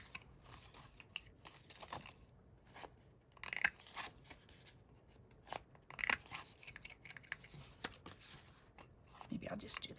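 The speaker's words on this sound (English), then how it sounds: "may as well go ahead and trim the corners of these too" Scissors snip the corners of handmade greeting cards at a craft table, giving short, quiet crisp cuts scattered across the stretch, with a few clearer snips standing out in a soft, close room.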